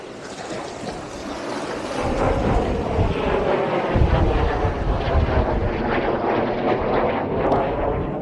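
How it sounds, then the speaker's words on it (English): Military jets running afterburners near RAF Valley on the Anglesey coast at Aberffraw roar continuously in the distance, swelling after the first two seconds into a steady, heavy rumble that may blend with surf. "They've been practicing on the afterburners over at RAF Valley, and it can get quite deafening sometimes."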